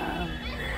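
A child imitates a lion's roar in one brief, loud, rough growl with no pause.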